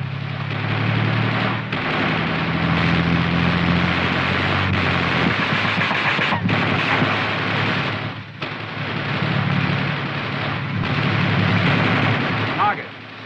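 Heavy booming blasts and rumble from an M551 Sheridan light tank firing in a training or combat setting, loud and sustained with several sharp thumps spread across the clip and radio-style voices partly buried beneath.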